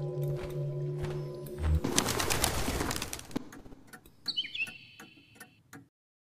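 Little bird chirping in the Colossal Cave 3D video game, a few short high synthetic tweets after a stretch of steady game tones and a burst of noise, alone with no voices.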